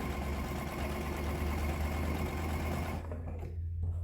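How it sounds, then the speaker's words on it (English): Sewing machine stitching fabric a quarter inch from a quilt block edge for a table runner, a steady close mechanical whir that stops near the end, leaving quieter motor hum. "I am just going to sew this down 1/4 inch at the edge of my block."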